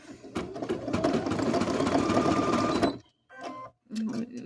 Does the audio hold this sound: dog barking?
no